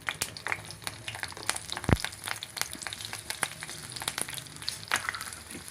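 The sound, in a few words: green chillies frying in oil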